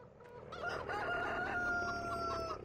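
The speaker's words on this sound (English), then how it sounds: "The rooster." Rooster crowing in Farming Simulator 15, a single drawn-out cock-a-doodle-doo with a few clucks leading in, quiet and alone against a soft background.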